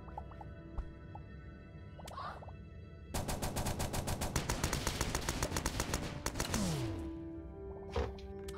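Rapid bursts of gunfire from the video game Starbound, loud clattering volleys that start sharply and run for several seconds before trailing off, with quieter game effects around them.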